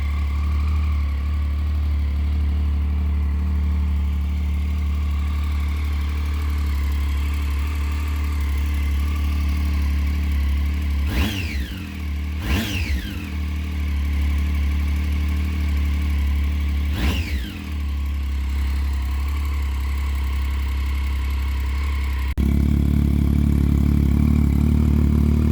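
A motorcycle with a new custom exhaust welded to the manifold and the catalytic converter removed idles with a steady deep rumble, broken by three sharp throttle blips before settling back to idle.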